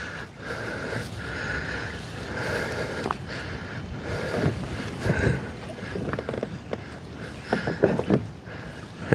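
Wind buffets the microphone during kayak fishing on open water in northern Wisconsin, a loud, continuous rushing roar with gusty swells and occasional bumps and splashes, and no voices.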